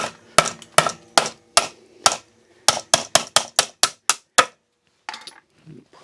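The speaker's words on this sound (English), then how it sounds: "I'm going to whack that thing with a hammer." A hammer strikes the end cap of a Stanley FatMAX chisel knife in over a dozen sharp, loud metallic whacks, spaced irregularly and then quickening into a rapid run before stopping, followed by faint handling noise.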